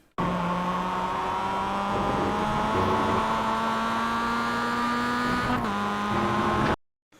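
Mazda MX-5 race car in iRacing at Virginia International Raceway North, its engine holding a steady, loud, buzzing drone under load. The pitch climbs slightly, then shifts briefly near the end before the sound cuts out.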